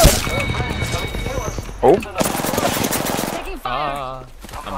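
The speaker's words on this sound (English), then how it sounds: "I'm one shot." Rapid automatic gunfire bursts crackle through an Apex Legends-style battle royale firefight, with quick repeated shots under excited player talk and a short exclamation.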